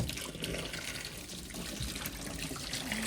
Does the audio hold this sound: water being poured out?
yes